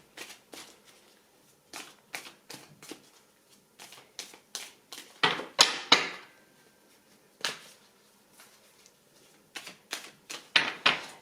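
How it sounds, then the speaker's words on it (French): Tarot cards are handled and laid out on a table in sharp, irregular flicks and slaps, some clustered in quick bursts with pauses between, close and fairly quiet, with no talking. "Je vais prendre d'autres cartes."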